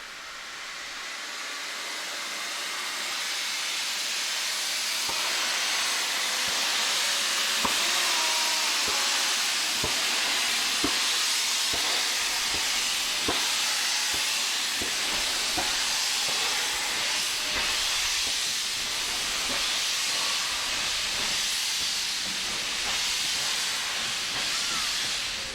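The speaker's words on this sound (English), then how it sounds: "the 388-ton train would be moving at a mile a minute within 5 miles" An LNER Green Arrow steam locomotive pulls away with a 388-ton train, loud steady hiss of steam and rolling noise filling the scene, with sharp exhaust beats and clanks growing more frequent as it gathers speed.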